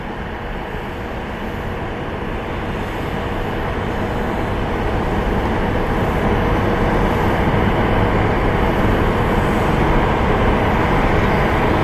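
A Southwest Airlines jet on flight 1803 from Nashville comes in toward Columbus Glenn Airport, producing a loud, steady broadband roar that builds slightly and holds throughout, with no talking.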